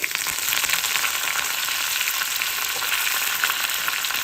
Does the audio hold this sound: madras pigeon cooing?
no